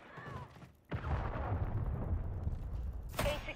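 Cruise missile strike explosions in the Call of Duty MW3 video game, a heavy rumbling blast that rolls on for a couple of seconds, followed by a sharp crack near the end.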